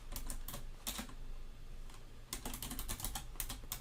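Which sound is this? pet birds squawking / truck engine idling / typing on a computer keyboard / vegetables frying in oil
typing on a computer keyboard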